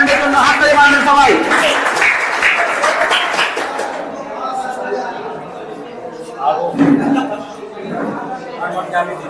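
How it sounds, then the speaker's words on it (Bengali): Audience clapping at a pigeon-racing tournament prize-giving ceremony in Murshidabad, dense and loud for about four seconds, then thinning into scattered claps and crowd chatter with a few louder bursts. "টুর্নামেন্টের জন্য হাততালি মারবেন সবাই।"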